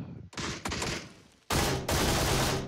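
PUBG gunshots, several loud sharp cracks with abrupt onsets, including a heavy burst near the middle and another shortly after, ringing close and alone with no talk.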